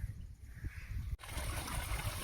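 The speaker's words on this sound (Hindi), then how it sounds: "आप अभी देख रहे हैं ट्यूबवेल चालू कर दिया है और पानी की खेल भर रही है।" Water from a running tubewell pours into a trough, a steady rushing trickle that briefly cuts out and then returns louder and fuller, with no voices.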